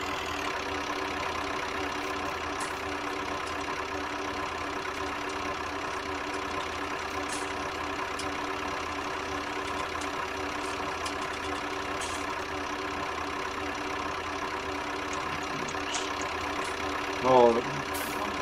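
A tractor engine idles with a steady, unbroken drone throughout, with a brief voice near the end.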